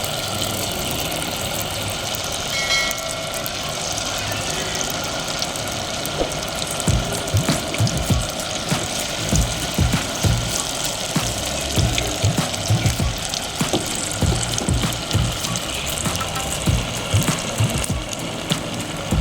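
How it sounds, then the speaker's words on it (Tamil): Chicken pieces deep-frying in hot oil for a creamy Japanese-style chicken dish crackle and pop continuously, with dense irregular bursts of spitting growing busier after the first few seconds over a steady background rumble. "இப்போ எண்ணெய் காஞ்சிருச்சு. நம்ம சிக்கனை பொரிச்சு எடுத்துக்கலாம்."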